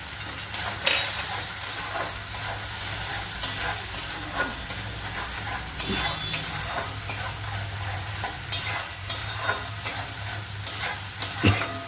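Pointed gourd and ridge gourd fry in mustard-based seasoning in a pan, a steady close sizzle with hiss, broken by repeated scraping and stirring strokes of a spatula.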